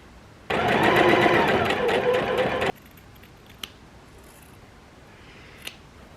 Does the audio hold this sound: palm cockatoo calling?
no